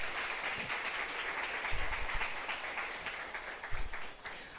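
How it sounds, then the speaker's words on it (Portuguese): A church prayer-group congregation claps together, a soft, steady patter of many hands that fills the room at moderate distance, with a few louder low thumps mixed in. "Aplauda a palavra do Senhor."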